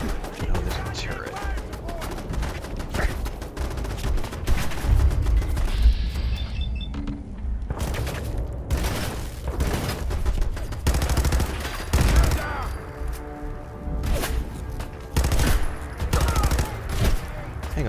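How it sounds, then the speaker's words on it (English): Turret gunfire in Fallout 4, bursts of rapid shots popping in and out of a busy game soundscape, with someone talking over much of it. "Hang on, do I have somebody shooting at me from..."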